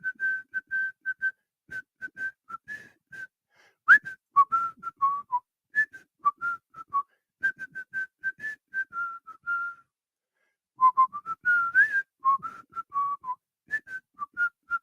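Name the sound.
person whistling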